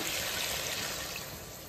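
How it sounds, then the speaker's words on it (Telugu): Water poured into a pot of ration rice being prepared for chicken biryani, a steady close splashing fill that eases slightly toward the end, with no talk. "ఇదిగోండి, వాటర్ అయితే పోస్తున్నాను."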